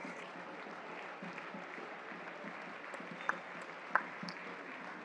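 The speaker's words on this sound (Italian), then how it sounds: "Gli applausi comunque arrivano" Scattered, faint applause rises from the stands at a regional Eccellenza football match in Sicily, heard from a distance with a few sharper individual claps over a soft crowd murmur.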